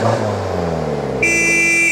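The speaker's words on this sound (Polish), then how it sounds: "Tutaj na nas trąbią." A car engine rumbles close by, then a loud, sustained horn blast sounds over it for nearly a second.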